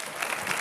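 Audience applause on a Spanish TV show set as a man holding a guitar walks on, a short steady wash of clapping at moderate level, with no talk over it.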